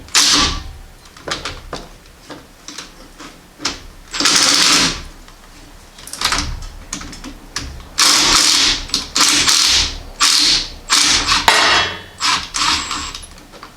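A wrench works loose the bracket bolts on a car's brake caliper, giving loud bursts of rapid metallic ratcheting and clanking in irregular spurts separated by short pauses, close up with no speech.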